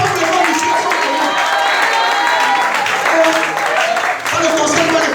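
A church congregation applauding steadily at a sermon on spiritual fatherhood, a dense wash of clapping with cheering voices mixed in, loud and sustained throughout.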